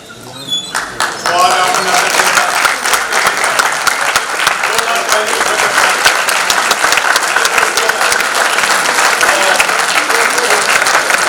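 A theatre audience bursts into loud, sustained applause after a play, dense clapping filling the hall for over ten seconds, with a brief voice at the very start before the clapping takes over.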